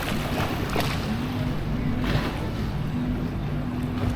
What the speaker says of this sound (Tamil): அலைகள் வந்துக்கிட்டு இருக்கிறதுனால